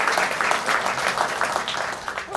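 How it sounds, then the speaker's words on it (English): A conference audience applauds panelists steadily, a dense wash of many hands clapping together at moderate loudness. "I would like to acknowledge the panelists by giving them a round of applause"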